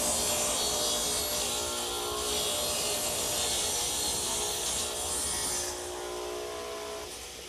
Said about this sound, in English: I've tipped the blade or turned the saw to 25 degrees, and I'm ready to make the first cut.